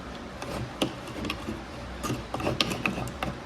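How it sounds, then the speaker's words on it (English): A toothbrush stirs baking soda and water in a small container, mixing a cleaning solution for car battery terminals. Close, irregular scraping and clicking taps run throughout with no voices. "We're going to stir that up with our toothbrush"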